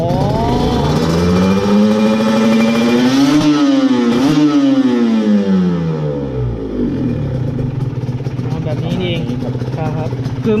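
Honda NSR 150 motorcycle engine revving in a workshop, its pitch climbing and falling in smooth sweeps before settling to a steady idle, loud and close, with someone talking over it.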